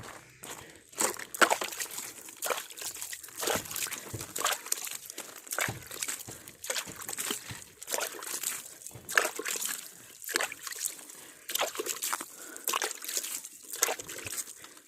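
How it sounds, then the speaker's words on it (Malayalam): Water is sprinkled by hand over a vegetable garden bed in bursts of splashing and trickling. The splashes come in an irregular rhythm, close and fairly soft, along with occasional rustling. "ഇച്ചിരി വെള്ളം ഇങ്ങോട്ട് തളിച്ച് കൊടുക്കണം"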